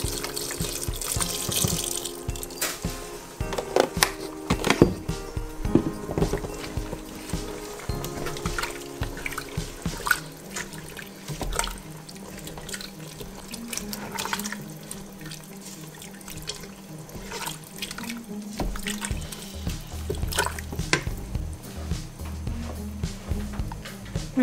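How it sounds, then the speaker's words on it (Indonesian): Water pours from a tap into a pot for a broccoli cheese soup, a steady close splashing stream running throughout with some clattering of kitchen things. "ditambahkan air sedikit."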